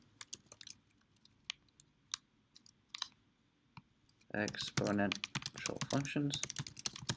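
Typing on a computer keyboard: scattered close, crisp key clicks and taps that thicken into rapid clatter partway through, with a voice speaking over the later keystrokes.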